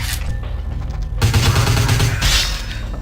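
Rapid bursts of gunfire in the vampire game Vampire The Masquerade: Bloodlines, loud and close, with a sharp crackling volley after a brief lull and a heavy boom near the end.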